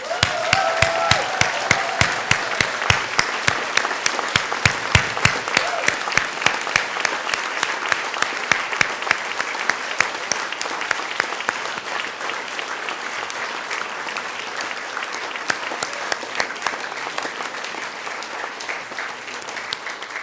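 An audience at a celebration event gives staff of a nutrition advocacy group a standing round of applause, with sustained clapping and distinct individual claps that gradually thin and soften toward the end.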